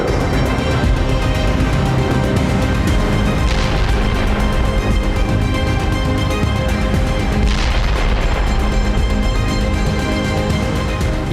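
Russian Hammer bombs explode during the war in Ukraine, a loud continuous barrage of deep booms and crashing blasts that rumbles without pause, with a couple of sharper bursts standing out.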